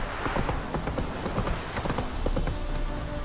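Roach the horse galloping in The Witcher 3, a quick, rhythmic clip-clop of hooves pounding steadily and close, with no talk over it.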